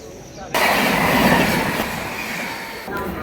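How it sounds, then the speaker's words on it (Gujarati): A train rolls into a station with a loud, steady rumble and faint squealing wheels, filling the space after a sudden onset. "અત્યારે ટ્રેન આવી ગઈ છે"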